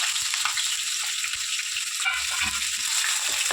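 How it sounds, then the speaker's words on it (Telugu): Sliced onions and green chilies frying in hot oil with bay leaves for a goat head and brain fry, a close, continuous hiss and crackle of sizzling with faint occasional stirring, no talking. "ఫ్రై చేసుకోండి బాగా, గోల్డెన్ కలర్ వచ్చే వరకు ఫ్రై చేయండి."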